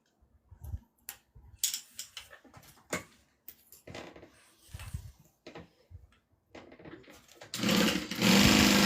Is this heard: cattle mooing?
no